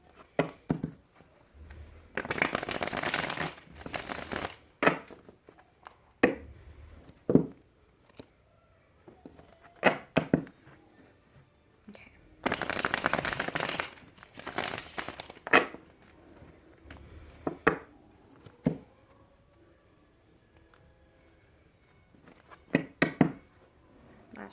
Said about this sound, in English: Just a quick shuffle or two.